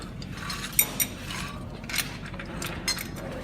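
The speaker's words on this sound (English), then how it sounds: "you're going to strap the ratchet to this and then to the hook in the ground" A ratchet strap is cranked tight to secure a car on a Mustang dyno, a series of quick clicking ratchet strokes over a low mechanical hum, close and moderately loud.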